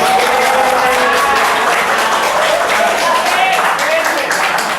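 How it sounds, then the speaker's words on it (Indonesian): Students applauding in a chemistry classroom, loud sustained clapping filling the room from start to finish, with voices mixed in. "Oke, tepuk tangan."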